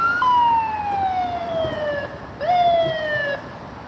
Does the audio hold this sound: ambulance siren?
yes